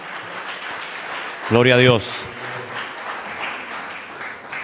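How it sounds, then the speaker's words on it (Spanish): A church congregation applauds in a steady, continuous wash of clapping, with one voice briefly calling out loudly over it partway through. "Toda la iglesia les está aplaudiendo ahora."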